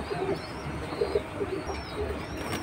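Pigeons coo softly and repeatedly at a pigeon market, low murmuring calls over a constant background hum and distant bustle.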